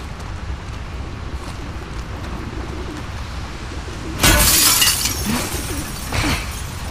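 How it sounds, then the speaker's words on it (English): Glass shatters sharply in The Last of Us Part II, a sudden loud bright crash with tinkling fragments trailing off, then a smaller second break, over quiet ambience and soft bird cooing. "Watch the glass."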